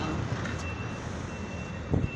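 Reversing beeps from a vehicle backing onto a ferry in Batangas, a steady repeating electronic beep over engine rumble and busy harbour noise, with a short thump near the end.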